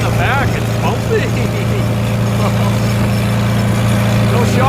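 A Farmall H tractor putts along steadily in second gear while pulling an International 510 grain drill to plant soybeans. Its low engine drone runs continuously and fairly close, with a person talking over it.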